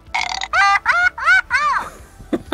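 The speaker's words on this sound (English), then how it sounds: "Little burp, Furby burping babies." A Furby Furblet mini electronic plush toy plays a series of short, bright, warbling burp-like tones in quick succession, loud and close, with a brief noise at the end.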